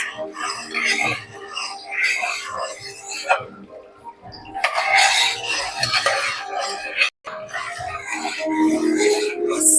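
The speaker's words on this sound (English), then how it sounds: "You have to keep on stirring because the consistency should become little thick." Thickening melted jaggery syrup stirred in a pot for sesame ladoos, giving a scraping, rubbing rasp in bursts under someone talking.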